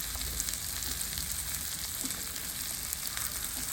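Onion frying with mustard seeds in hot oil, a dense steady sizzle and crackle close up, alone without talk, for banana cutlets.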